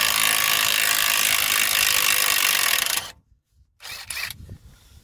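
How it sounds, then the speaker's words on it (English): Cordless Works 20V impact wrench rattling hard against a heavily corroded ball joint on a Great Wall Steed, a loud continuous burst for three seconds, then a brief silence and a few shorter, weaker rattles and clanks. "using a Works 20V rattler gun, but there's a lot of corrosion on here, so it may not take off."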